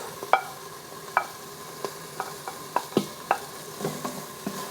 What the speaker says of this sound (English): Stir this around for about 30 seconds, just until you start to smell the garlic.